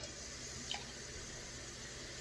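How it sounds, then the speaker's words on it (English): Water poured or running from a tap into a homemade roux on the stove, a steady, soft broadband wash of liquid with one brief splash partway through, and no talking. "I'm gonna add some more water"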